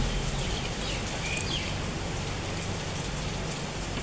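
Steady rain falling on surfaces outdoors, a dense continuous patter of drops that stays even and fairly loud throughout, with no voices.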